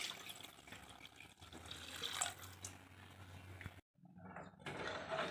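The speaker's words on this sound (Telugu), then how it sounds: "1 కప్పు రైస్కి 2 కప్పులు వాటర్ వేసుకోవాలి." Water is poured into washed rice in a pot for chicken pulao, a quiet steady pouring and splashing stream that stops briefly, then resumes.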